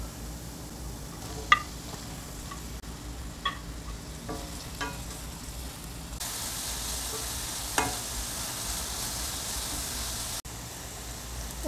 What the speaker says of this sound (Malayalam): ഇതിലേക്ക് 2 സവാള അരിഞ്ഞത് കൂടി ചേർത്ത് കൊടുക്കാം.